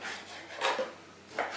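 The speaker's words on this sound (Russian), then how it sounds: "Перед бланшировкой нам нужно нарезать печень." A knife works through raw liver on a board, giving a few soft scraping and slicing strokes with a brief knock, close and moderately loud, with no voices.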